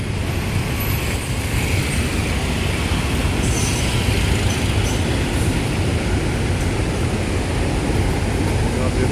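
An MRT train passes at Shaw Boulevard in Manila, a steady loud rumble of rail cars that runs the whole time and blends with the surrounding road traffic.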